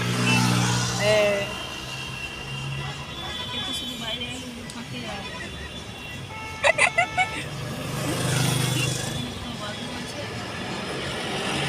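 Road traffic on Bombay Road rumbles past at a steady level, with vehicle engines and a short burst of horn honks partway through, under a person talking.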